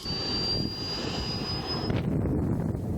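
A small jet turbine engine mounted on an RC car spools up toward idle after being fed special turbine lubricating oil, a steady high-pitched whine over a broad roaring rush that holds loud and close throughout.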